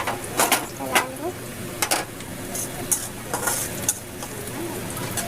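Onions sizzle steadily in a hot pan during fish cooking while a utensil scrapes and stirs against the metal in repeated strokes, with people chatting over the frying.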